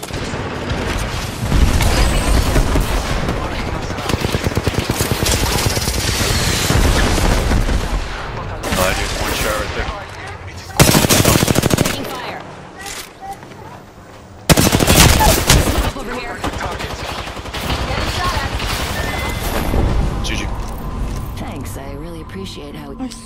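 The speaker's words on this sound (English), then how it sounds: "Shots fired at me." Bursts of rapid automatic gunfire in the Apex Legends shooter game, loud and close, interrupted by brief pauses and heavy impact booms, with voices talking over the action.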